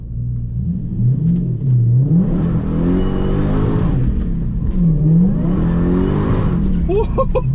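A Lexus GS400 fitted with a limited-slip differential pulls hard through the gears, its engine note climbing in two strong surges separated by a shift, loud and close from inside the car, with a voice speaking over it.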